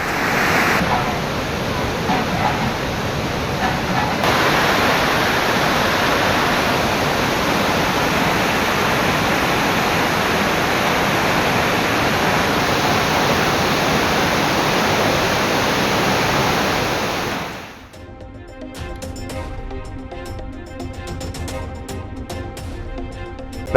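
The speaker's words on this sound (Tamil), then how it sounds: "திருமூர்த்திமலை பஞ்சலிங்க அருவியில் ஏற்பட்ட காட்டாற்று வெள்ளம்" Roaring flash flood torrent at Panchalinga waterfall in the Thirumoorthy hills, a loud steady rush of water that fills the clip for about eighteen seconds, then drops to a quieter, clicky background.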